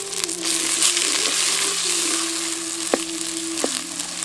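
Tomatoes drop into a pan of hot oil with sizzling small onions while cooking a dried tuna curry, giving a loud, continuous fry with stirring and a couple of sharp clinks from the utensil against the pan.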